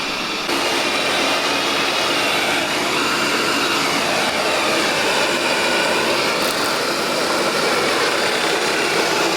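A Roborock S7 Max V Ultra robot vacuum runs a zigzag mopping pass, giving a loud, steady broadband whir that holds without a break throughout, with no voices.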